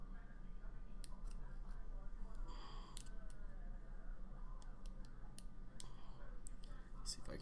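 Scissors cut through a thick tattoo clipcord in a series of sharp snips and clicks, close and quiet, with soft murmured speech in the background.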